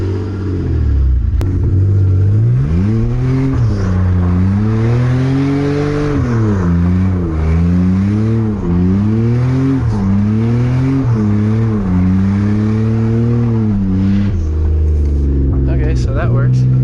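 A BMW E46 with a freshly welded differential and about 205,000 miles revs repeatedly while driving, its engine note rising and falling in a steady series of loud, close pulls with a low rumble throughout.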